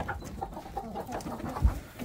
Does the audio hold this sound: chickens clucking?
yes